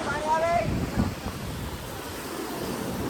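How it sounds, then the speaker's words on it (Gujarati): Sea waves at Gomti Ghat in Dwarka, a continuous washing surge of water mixed with wind buffeting the microphone, moderately loud with a faint higher tone near the start. "જોરદાર મોજા ભાઈ મોજા આવી રહ્યા"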